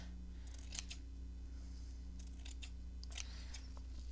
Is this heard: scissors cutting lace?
yes